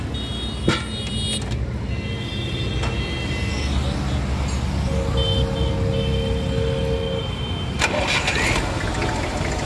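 A 2001 Massey Ferguson 35 tractor with a Simpson engine cranks over and catches, then settles into a loud, steady diesel idle close by, with a brief extra burst near the end.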